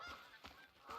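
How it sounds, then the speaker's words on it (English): Geese honking in the Revontuli Coast map of the game Ark, with about three honking calls spread over a second against a steady outdoor ambience. "there's a lot of geese on this one"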